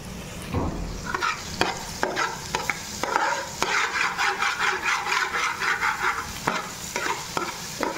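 Onion, ginger and garlic being stirred and fried in a pan, with a steady sizzle under repeated scraping strokes of a spatula, close and fairly loud, no talking.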